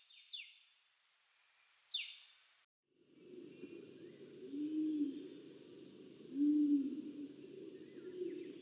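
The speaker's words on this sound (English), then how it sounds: "Andaman wood pigeon is a large pigeon with dark gray upperparts and pale gray head and underparts." An Andaman wood pigeon, a large pigeon of open areas and light forest in the Andaman Islands, gives a low, drawn-out cooing call twice, fairly clear against a background of higher bird chirps.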